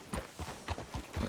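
Hooves clip-clop in a steady walking rhythm, fairly quiet and close, from a horse in the video game Red Dead Redemption 2.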